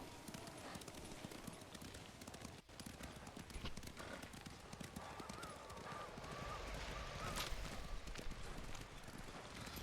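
Steady clip-clop of galloping horse hooves in the video game Ghost of Tsushima under a constant wash of wind, with a brief soft whinny partway through.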